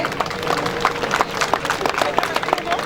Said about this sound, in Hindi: कृपया तालियां बजाते रहिए।